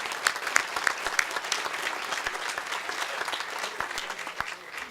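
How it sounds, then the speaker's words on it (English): An audience at a gathering in a private home claps in sustained applause, a dense even patter of many hands that lasts throughout and tapers slightly at the end. "Let's give them a big round of applause."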